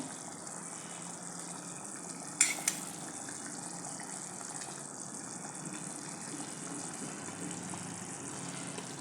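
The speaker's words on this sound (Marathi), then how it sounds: "आता मसाल्याला इथे छान उकळी आली आहे" Masala gravy for a masala egg curry bubbling steadily in a pan at a home stove, a continuous soft hissing boil with one brief clatter partway through, no talking.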